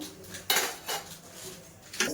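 Metal pan being handled on a stovetop before tempering, three or four soft clanks and scrapes spaced apart, fairly faint and close with no voices.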